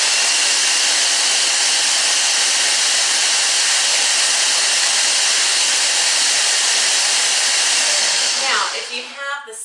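A loud, steady whirring roar of a blender or food processor mixing a cilantro lime green dip, running continuously before winding down and cutting off in the last second.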